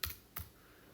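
Two quick, crisp keystrokes tapped on a computer keyboard while a cover letter is being typed, soft and close with a pause between them and no talking.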